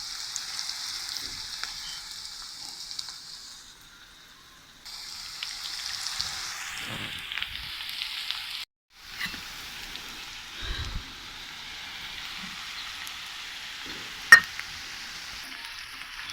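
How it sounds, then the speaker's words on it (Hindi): Salan curry sizzling and frying in a home kitchen pan, a steady crackling hiss that briefly drops out and resumes, with a couple of soft clinks and one sharp tap near the end, no talking. "ये देखिए हमारा सालन बन रहा है"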